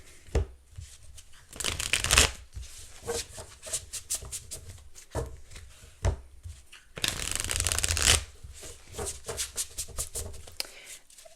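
Tarot cards are shuffled close by in irregular bursts of crisp riffling and flicking, with two louder, longer shuffles among softer card handling.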